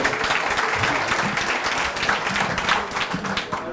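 Spectators at an oyster-opening contest applaud a competitor, a full and lively round of clapping from a crowd nearby, with faint voices mixed into the noise.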